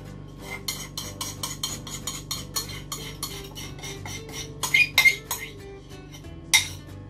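A utensil mixing chocolate cream into mascarpone in a bowl, with rhythmic close clinks and scrapes of metal against the dish, a few sharper knocks near the end, no talking.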